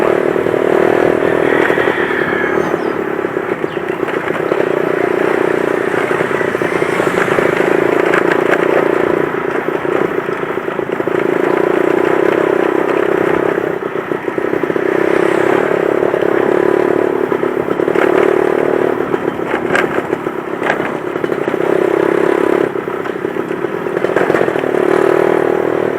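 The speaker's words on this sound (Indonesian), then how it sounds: "Langsung ditambahin giginya kalau motornya udah teriak ya" A Yamaha F1ZR two-stroke motorcycle with a manual clutch revs loudly and steadily up close, its buzzing engine note holding high with slight rises and dips throughout, and no talking over it.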